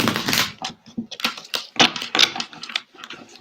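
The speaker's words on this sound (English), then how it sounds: "You put these in and give them a quick shuffle." Tarot cards getting a quick shuffle, with a rapid series of close, crisp rustles and papery clicks in uneven bursts over a few seconds.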